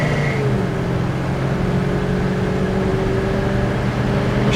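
A 1969 Plymouth GTX with a numbers-matching 440 V8 accelerates on the road, its engine droning loud and close with rising tone and a gear shift, wind and road noise underneath.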